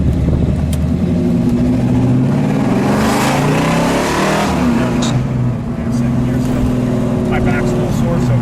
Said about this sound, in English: it sounded like one bad AMX